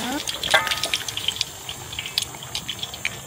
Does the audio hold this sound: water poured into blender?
yes